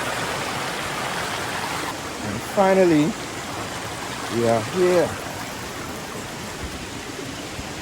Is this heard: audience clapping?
no